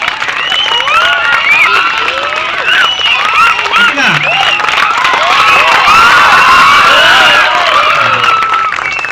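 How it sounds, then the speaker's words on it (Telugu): School students at a government high school Independence Day prize ceremony clap, cheer and shout loudly together, a dense crowd roar with overlapping whoops and children's voices throughout. "సార్ కూడా ఒకసారి క్లాప్స్ కొట్టండి."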